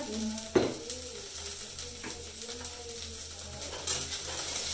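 Bhindi (okra) frying in a home kitchen pan, a steady soft sizzle with light stirring scrapes and a couple of sharper utensil knocks.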